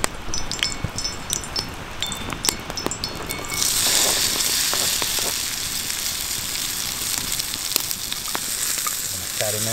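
Fat sizzling in a pan set over a campfire in a canyon camp; a soft crackle rises into a fuller, steady sizzle partway through, with occasional clinks and light handling noises nearby.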